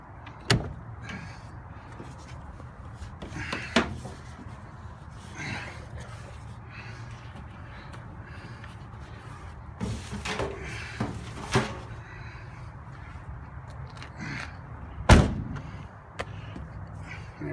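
Car door on a big block Chevy Blazer being worked on outdoors in light rain: scattered clunks and rattles of the door strap being tightened, a few sharp knocks, and a firm door-closing thump near the end, close and fairly quiet.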